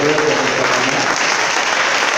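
Steady, loud applause from a church congregation during a sermon, an even wash of clapping with faint voices underneath.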